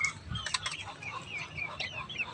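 Native chicks peeping close by in a backyard flock, with bright repeated chirps scattered over a low background of farmyard noise and some louder clucking.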